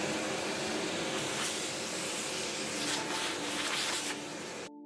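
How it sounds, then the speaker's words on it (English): A 20 mm Forstner bit bores a blind hole in a wooden furniture panel for a cam lock body, producing a steady, loud whirring grind that holds for several seconds and then stops abruptly. "using a 20 mm Forstner drill, I drill a blind hole for the cam body"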